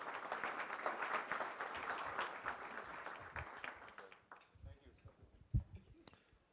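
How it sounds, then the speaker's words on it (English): A room of attendees at a Rotary Club weekly meeting breaks into applause, steady clapping for about four seconds that thins out into a few scattered claps and murmured voices. "Let's give them another round of applause."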